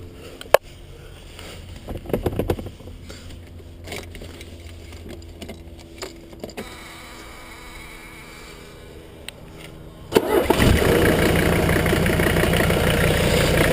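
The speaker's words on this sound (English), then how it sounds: "let me start it up so you can hear it running." A Mercedes 300TD diesel with its block heater plugged in is cranked and catches midway, then settles into a loud, steady, close idle clatter that runs to the end, with no talking.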